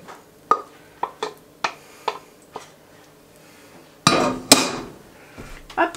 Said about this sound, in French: j'ajoute les œufs